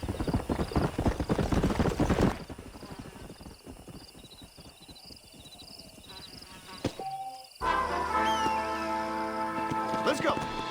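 Rhythmic hoof clip-clops from a horse in Red Dead Redemption fill the opening seconds, followed by quieter sounds, a brief whinny, and then music with speech.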